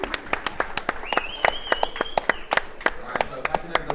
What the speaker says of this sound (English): Let's give our young Mr. Ghost Chips a round of applause.